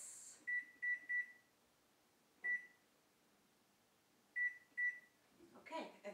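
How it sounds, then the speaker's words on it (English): An oven timer sounds in a quiet kitchen, a faint pattern of short electronic beeps in small groups of three, one, then two, followed by a brief clatter. "set the timer for 15 minutes"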